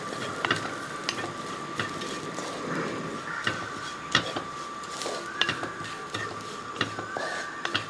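Spice powders stirred in a pan for a Kerala-style dish with prawns and jackfruit seeds, as a steady soft scraping and faint sizzle with occasional sharp clicks of the spoon on the pan's metal.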